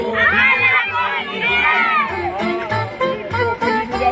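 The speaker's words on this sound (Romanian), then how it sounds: "Acum trebuie să strige tare, hai la Colindeți." A crowd of children shouts together loudly at a Romanian Christmas caroling (colindeți) gathering in Isverna, voices rising in energetic chanting bursts with cheering and chatter mixed in.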